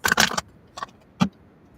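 Tarot cards shuffled by hand in a quiet room: a quick papery burst followed by two shorter flicks, close and crisp.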